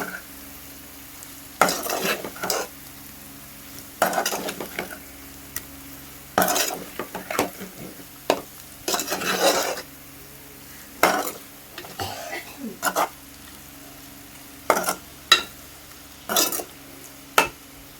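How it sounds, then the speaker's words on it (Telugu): A chicken liver fry is stirred slowly in a pan, with a spatula scraping and clacking in irregular bursts every second or two over a low, continuous sizzle, close and clear, with no one speaking. "చక్కగా నిదానంగా కలుపుకుందాం"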